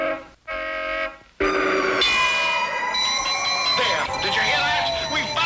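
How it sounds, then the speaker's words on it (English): Cartoon pedestrian crossing traffic signal, sustained tonal electronic wails that cut out briefly twice near the start and then hold steadily, loud and close, with shifting pitch like a siren. "I heard the traffic signal!"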